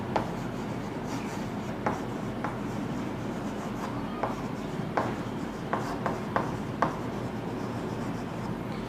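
A lecturer writes on a board during a stereochemistry class, producing quiet, continuous scratchy strokes broken by sharp taps, heard alone at moderate volume.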